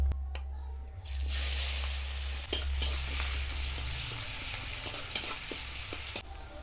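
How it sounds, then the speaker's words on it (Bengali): Chopped onions sizzle steadily in a hot kadai, a continuous loud frying hiss with occasional stirring clatters and a low hum throughout. "চলুন আমি কড়াইয়ের মধ্যে পেঁয়াজটা দিয়ে দিই।"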